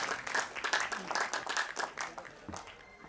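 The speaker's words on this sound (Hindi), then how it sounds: "जोरदार तालियों के द्वारा स्वागत, अभिनंदन।" An audience at a blanket distribution ceremony claps enthusiastically, a dense burst of applause that gradually thins out, with a voice speaking briefly over it.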